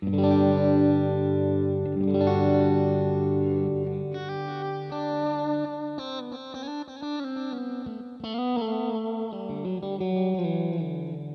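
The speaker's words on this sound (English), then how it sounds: "another channel here that's kind of that same thing, but kind of with a swell effect." Electric Stratocaster guitar notes swelling in gently with a wet, chorused, echoing tone, chords blooming and sustaining one after another without any talking.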